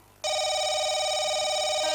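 A telephone rings loudly and close by with a steady electronic trill, starting abruptly after a brief quiet moment and continuing without pause.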